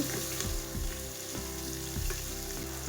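Chopped onions frying in oil with cumin and a bay leaf for a vegetable pulao, a steady close sizzle broken by rhythmic scrapes of a spoon stirring the pan, with no talking.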